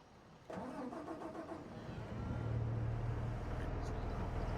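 Tractor engine in the video game Farming Simulator 25 cranks and starts, then settles into a steady, rising mid-pitched idle rumble, close and continuous.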